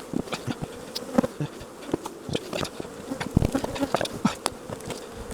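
Honeybees buzzing around an opened hive during an inspection, a close, busy drone with individual bees swooping past the ear, plus occasional light knocks of frames and equipment.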